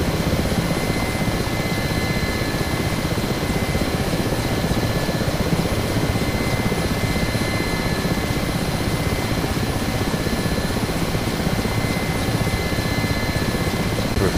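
A Mi-8 helicopter in the DCS flight simulator drones loudly and steadily, its rotor thrum and turbine whine holding constant throughout with no talking.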